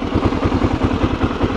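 Motorcycle engine idling close by with a steady low throb and light mechanical clatter, as the bike is clicked down into first gear with the clutch pulled in.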